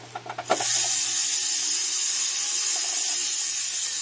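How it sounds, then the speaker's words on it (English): A steady, loud hissing whir from a jeweller's polishing motor that starts abruptly after a few clicks of its worn foot pedal, with a faint uneven low buzz underneath. "That noise is the foot pedal making the noise, showing some age on it."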